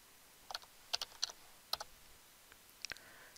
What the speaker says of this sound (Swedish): Och sen klickar jag här på fler alternativ.